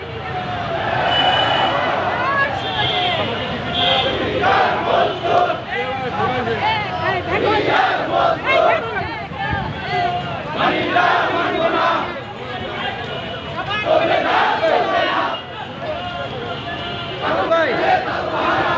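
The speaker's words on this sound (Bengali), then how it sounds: "আমরা দেখতে পাচ্ছি তাদের বিশাল একটি র্যালি ধীরে ধীরে আসছে" A large protest rally procession moves in toward the National Martyrs' Monument in Dhaka, with a dense crowd chanting loudly and continuously, voices rising in waves of battle-cry shouts across the whole stretch.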